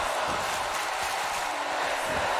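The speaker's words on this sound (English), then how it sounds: "you hear this crowd saying, "This is awesome."" A large arena crowd at an AWA Championship Wrestling match in WWE 2K18 roars and chants steadily, a dense, sustained wash of voices without a break.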